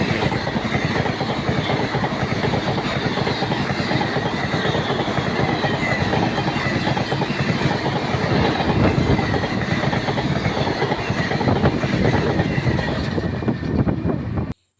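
A loud, steady rumble of a moving train, with continuous clattering of wheels on rails and metallic rattling, no voices, cutting off abruptly at the end.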